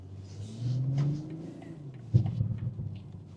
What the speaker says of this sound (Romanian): Îmi place și evacuarea pe modul sport.